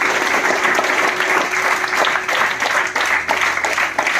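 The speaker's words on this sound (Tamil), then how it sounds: "எல்லாருக்காக ஒரு கைத்தட்டல் கொடுத்துருவாங்க" A crowd at a Rotary club event in Trichy breaks into sustained, dense clapping that stays loud and steady throughout, with a faint murmur of voices underneath.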